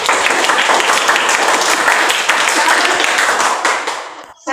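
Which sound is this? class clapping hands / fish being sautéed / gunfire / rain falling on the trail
class clapping hands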